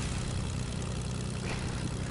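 A video game propeller airplane engine hums steadily, a constant low droning throb at an even, moderate level, heard alone for a couple of seconds.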